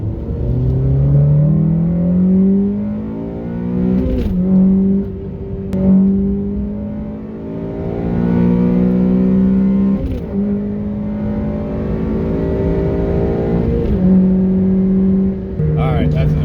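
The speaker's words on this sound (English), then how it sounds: "one last sound test of what the car sounds like now" An 8th-generation Honda Civic Si engine with a Skunk2 Alpha header and straight-pipe exhaust, catalytic converter removed, revs repeatedly through a loud, raspy open exhaust, the pitch climbing and dropping in long pulls with deep rumbling underneath.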